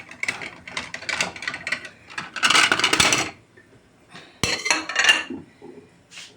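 A ceramic plate is picked up and set down on a kitchen table during breakfast preparation, giving sharp clinks and clattering scrapes in short bursts, close and with no talking.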